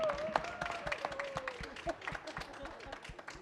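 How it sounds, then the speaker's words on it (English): Applause for the panelists at the close of a biodiversity session at COP29, heard as sparse, irregular claps from a modest audience, fairly quiet, with a faint tone running under the first half. "And another round of applause to all our wonderful"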